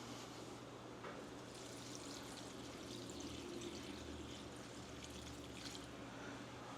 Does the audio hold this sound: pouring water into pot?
yes